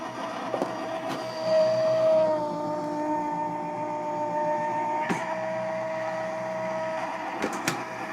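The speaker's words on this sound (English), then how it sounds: "And run this through my die cutting machine." A die cutting machine hums steadily as card stock is fed through it, holding one continuous whirring drone for several seconds with a few brief clicks and thumps along the way, close and fairly loud, with no talking.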